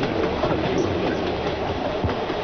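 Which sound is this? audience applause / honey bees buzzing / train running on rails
train running on rails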